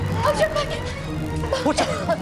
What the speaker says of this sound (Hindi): तब से इन्हें बहुत खांसी आ रही है।